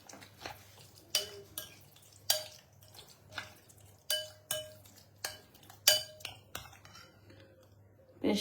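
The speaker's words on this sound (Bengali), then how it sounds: "এবার এটাকে আমি ভালো করে মিশিয়ে নেব।" Paste for a paneer cheese sandwich stirred in a bowl, a series of separate clinks and scrapes of a spoon against the dish at an uneven rhythm, close by and fairly quiet, with a faint steady hum beneath.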